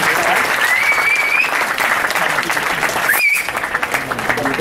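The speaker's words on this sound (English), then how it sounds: "Big round of applause." A crowd breaks into sustained applause, a dense continuous clapping with a couple of brief whistles rising above it, the sound dipping for a moment before carrying on.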